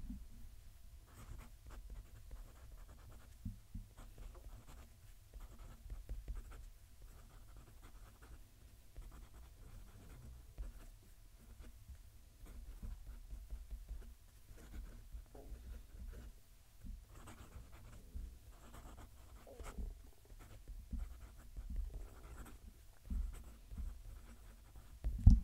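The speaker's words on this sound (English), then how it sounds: "I'm going to move the mic and write a sentence." A Narwhal Key West fountain pen scratches across paper as a sentence is written, its soft, close, irregular nib strokes quiet against a low background hum, with no voices.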